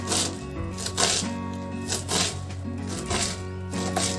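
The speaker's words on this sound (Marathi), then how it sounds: "मेथीची भाजी थोडी थोडी घेऊन आपण आता जास्त जाड पण नाही आणि बारीक पण नाही अशा पद्धतीने चिरून घेऊ।" Fenugreek leaves being chopped with a knife, a steady run of close, crisp cuts against a board over a continuous tonal hum in the background.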